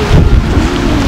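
Rain pours down during an outdoor football practice, a loud, steady broadband hiss with wind buffeting the microphone and no talking.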